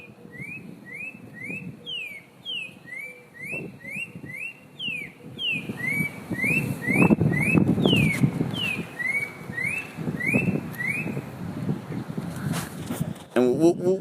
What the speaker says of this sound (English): We're listening to his spot-breasted oriole, your life bird